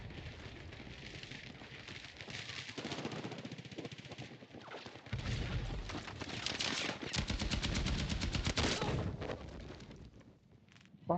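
Rapid automatic gunfire and bursts of shooting crackle through a Battlefield 6 firefight, dense and sustained with heavier stretches midway, moderately loud with no talk.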